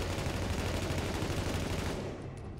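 Rapid automatic gunfire in the video game The Division forms a continuous, dense rattle, close and steady, thinning out slightly at the end.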